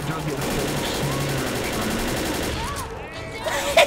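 Continuous gunfire from the video game Left 4 Dead rumbles beneath excited voices talking over it, dense and steady rather than as separate shots.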